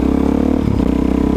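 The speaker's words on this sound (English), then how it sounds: "Yeah, my bike is super loud." Loud dirt bike engine running steadily close by, a dense continuous roar with a brief rough stutter midway, no voices over it.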